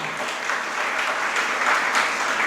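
Steady, crowded clapping from a congregation at a Jain sermon, close and sustained throughout with a soft swell near the end and no voice heard.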